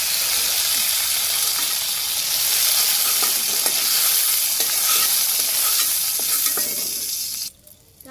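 Okra frying lightly in oil, a loud continuous sizzle with scraping stirs throughout, ending with a sudden drop.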